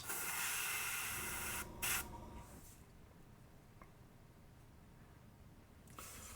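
An airbrush spraying paint gives a steady, close airy hiss for under two seconds, then cuts off, with brief bursts afterward and faint background noise.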